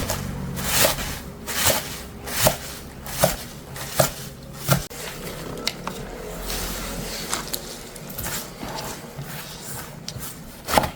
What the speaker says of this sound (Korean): 쪽파 한 줌도 4 내지 5cm 정도로 잘라요